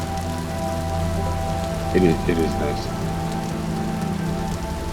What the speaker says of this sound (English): look at the rain. How realistic it looks.